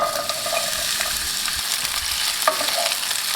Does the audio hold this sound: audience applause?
no